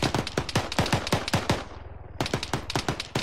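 Automatic weapon fire in the video game ARMA 3: loud, close bursts of rapid, evenly spaced shots, broken by a brief pause before a second rattling burst resumes.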